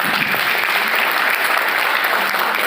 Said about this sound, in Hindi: जोरदार तालियां चाहूँगा सर के लिए।